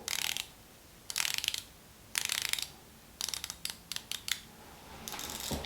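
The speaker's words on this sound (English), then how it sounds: "that bezel action, just so you can hear it a little bit." Bezel of a Seiko 5 SNZH57 dive watch being turned, giving bursts of fine ratcheting clicks in several short runs, close and quiet, with faint isolated clicks in between.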